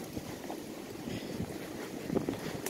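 Steady wind buffets the microphone in a constant low rumble and hiss, with no voices over it.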